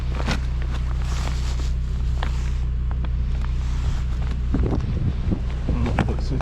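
A snowmobile engine runs with a steady, loud low drone after starting on a frozen ignition in deep snow during a city blizzard, with gusty wind noise and scattered crunches over it.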